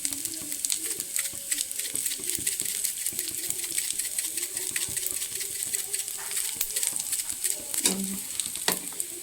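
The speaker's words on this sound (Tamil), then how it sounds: "கடலப்பருப்பு உளுத்தப்பருப்பு எல்லாம் போட்டுக்கலாம் நல்லா ப்ரௌன் கலரில் ஆகிற வரைக்கும் ஃப்ரை பண்ணி எடுத்துக்கலாம்" Chana dal and urad dal crackle and sizzle in hot oil for a tempering, making sparse close pops and scraping stirs over a low hiss, with a voice murmuring faintly now and then.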